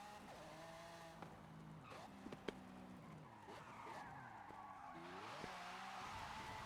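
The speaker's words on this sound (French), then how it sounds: "Hop là, petit dérapage pour aller dans la ville." A Mercedes-AMG car drifting in Forza Horizon 5, with a revving engine whose pitch sweeps up and down alongside a sustained tire skid and squeal, steady and moderately loud.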